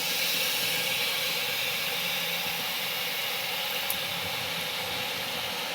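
Curd poured into frying masala in a pan while making raw jackfruit biryani, giving a loud, steady, broadband sizzle that holds evenly throughout with no speech.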